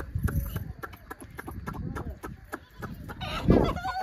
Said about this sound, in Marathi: बघा कशा ही डायरेक्ट कोंबड्या